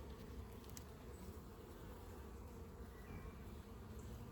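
Honey bees buzzing at a busy resource hive, a dense, continuous faint drone with no pauses.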